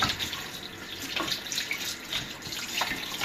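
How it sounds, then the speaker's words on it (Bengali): A fish, a type of plaice, is rinsed under a running tap with a little salt, giving a close, continuous splash of water that shifts as the fish is turned in the stream. "একটু লবণ দিয়ে ভালো করে ধুয়ে নেই"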